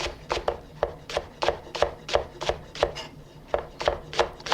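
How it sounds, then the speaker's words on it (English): A knife slices the white part of a leek into thin pieces on a cutting board, a steady run of about a dozen crisp, close chopping strokes in even rhythm with no voices. "Then slice the white part of the leek into thin paysan."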